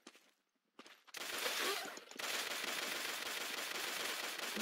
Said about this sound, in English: There's the grease gun.